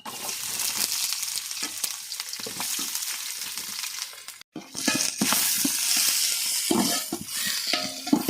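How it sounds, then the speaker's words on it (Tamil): Sliced onions hit hot oil with spices for biryani and sizzle loudly and continuously, with stirring scrapes and a brief pause before the frying surges again. "இப்போ கட் பண்ணி வச்சுக்கிற வெங்காயம் சேர்த்துக்கலாம்"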